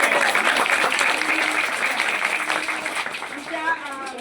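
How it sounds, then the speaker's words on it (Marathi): An audience claps loudly for a school teacher at a school gathering, a dense burst of applause that fades slightly over a few seconds, with voices mixed in underneath. "त्यामुळे त्यांच्यासाठी जोरात टाळ्या."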